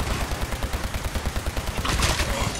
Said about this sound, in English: Automatic laser pistol.